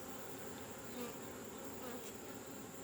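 Dense, steady buzzing of honeybees rises from an open hive while built-up combs are pulled out to search for the queen, a close and continuous hum with no talking.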